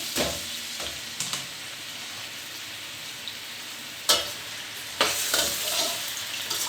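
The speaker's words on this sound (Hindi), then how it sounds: "उसी ऑयल को हमने एक देचकी में निकाल लिया है। उसमें हम ये प्याज, टमाटर और सब्ज़ मिर्चें ऐड करेंगे।" Onions, tomatoes and green chillies fry in oil in a deep pot for chicken bhindi fry, a steady hiss with occasional sharp stirring knocks, growing louder near the end and with no talking.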